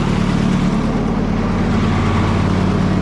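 An old tractor engine with an exhaust leak idles continuously with a deep rumbling drone and a faint rhythmic putter, close by and fairly loud, with no talking.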